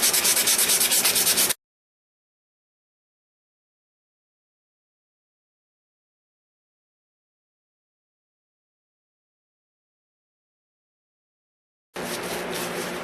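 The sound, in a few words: hand sanding a G10 knife handle scale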